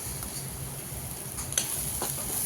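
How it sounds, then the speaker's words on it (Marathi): Egg curry masala with cumin powder is sautéed in a pan, making a quiet, even sizzle with a couple of light stirring clicks and no voices. "असं परतून घेऊया"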